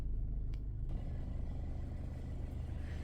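A car driving slowly through a state park in St Marys, Georgia, a steady low engine and road rumble from inside the vehicle, constant and fairly loud with a few faint clicks.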